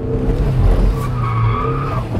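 A turbocharged Mazda MX-5 drifting at the Paul Ricard circuit, loud tire squeal sliding over the rough engine roar, close and sustained throughout the short burst.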